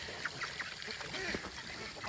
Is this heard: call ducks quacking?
yes